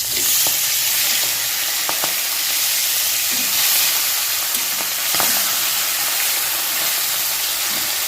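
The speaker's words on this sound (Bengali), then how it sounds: "আর এদিকে মাছগুলি ভেজে নিচ্ছি।" Hilsa fish frying in hot oil, a loud, dense and continuous sizzle with occasional faint clicks of a utensil, heard alone without talk.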